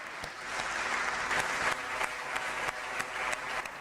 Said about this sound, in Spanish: darle un aplauso a mi intérprete por su buen trabajo